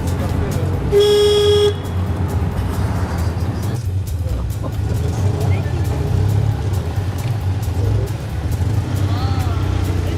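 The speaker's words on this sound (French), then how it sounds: "Je vais pouvoir klaxonner." A single short car horn toot from a Citroën 2CV sounds near the start, over a steady low rumble of engines and Paris traffic.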